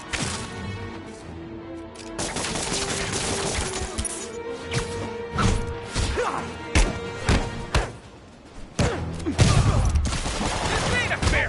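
Criminals shooting during a street fight in Marvel's Spider-Man, with scattered gunshots, thuds and glass-shattering crashes over game music, and voices talking throughout.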